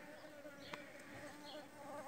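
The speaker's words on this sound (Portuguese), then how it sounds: "Aqui já tem um monte de abelha." Jandaíra stingless bees at an open hive box, a soft continuous buzzing hum with occasional brief louder passes close by, faint and without talk.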